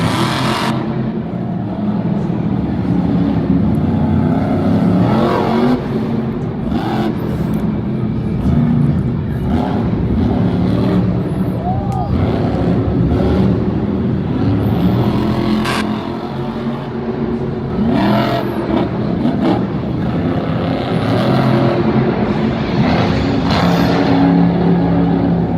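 Monster truck engines roar and rev during a Monster Jam freestyle run in an arena in Lyon, France, a loud, sustained rumble with repeated surges and bursts of throttle across the whole stretch, with faint speech in the background.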